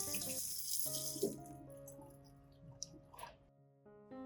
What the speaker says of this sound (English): Then rinse the cilantro with clean water 2 to 3 times